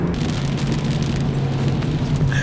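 Steady rain patters and drums on a moving 2020 Bentley Continental GT, over a constant low road and engine hum, with no voices.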